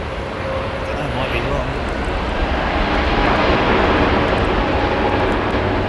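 A large airplane roars steadily and loudly close by, the engine noise swelling slightly over several seconds.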